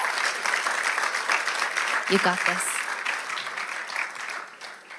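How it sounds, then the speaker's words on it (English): An audience claps steadily throughout, with people talking and a voice calling out of encouragement over the applause. "give her just a hand of applause."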